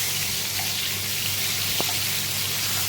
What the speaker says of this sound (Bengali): মাছগুলো একটু ধীরে ধীরে করে ভাজতে হবে